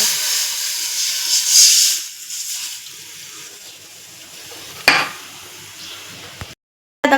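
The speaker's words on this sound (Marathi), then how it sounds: "आता याच्यामध्ये पाणी टाकून घ्यायचं." Water poured into a hot kadhai (wok) after vermicelli is taken out, with a steady loud hiss and steam that fades over several seconds, one sharp clink near the end.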